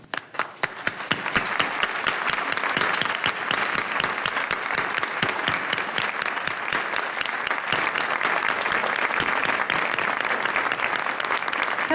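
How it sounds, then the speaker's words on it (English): A large audience at a Mexico event breaks into loud, sustained applause, a dense steady roar of many hands that swells within the first seconds and holds until the end. "let's give a warm round of applause for the most generous Supreme Master Ching Hai"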